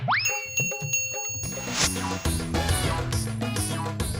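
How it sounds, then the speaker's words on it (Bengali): A puja bell rings out with clear metallic tones at the start, followed by busy rhythmic ringing mixed with other sounds that continues to the end. "ঘন্টাটা বাজা"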